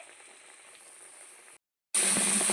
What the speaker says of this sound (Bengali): তেলটা গরম হয়ে যাওয়ার পর আমরা এইভাবে বেসনের ব্যাটারটাতে চুবিয়ে চপগুলোকে ভেজে নিচ্ছি